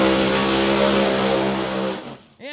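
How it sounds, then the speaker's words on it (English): Drag racing promod cars doing a pair of burnouts: a loud, dense engine roar with screeching tire noise that holds steady, then cuts off near the end before an engine revs up again. "And there's a healthy pair of burnouts there."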